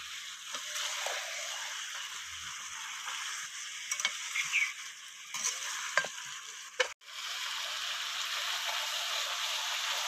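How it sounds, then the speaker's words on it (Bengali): Chicken pieces are sautéed in a pan for curry, giving a steady hiss of frying broken by scattered scraping and stirring knocks, with a sharp clatter near the end before the sizzle resumes. "এইভাবে আমি 2 মিনিটের মতো ভালো করে কষিয়ে নেব।"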